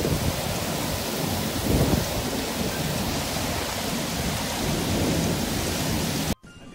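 A violent thunderstorm in Delhi, strong enough to topple trees, brings a dense, loud, continuous roar of heavy rain, with a low thunder rumble swelling early on before the sound cuts off abruptly.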